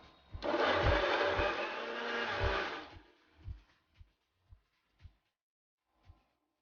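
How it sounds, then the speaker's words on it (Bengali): A kitchen mixer grinder blends cut watermelon pieces into a paste, running loud and steady for about two and a half seconds before stopping, followed by several short faint knocks. "মিক্সিতে আমি এটা পেস্ট করে নেব"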